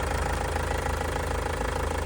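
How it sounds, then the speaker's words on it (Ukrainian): A 2009 Opel Vivaro passenger van's 2.5 TDI diesel engine idles steadily and evenly with a constant low rumble, recorded alone with no voices. "Жодних зауважень до роботи двигуна немає."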